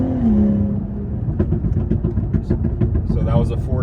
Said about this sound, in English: So that was a 4 to 5 pull that you heard right there.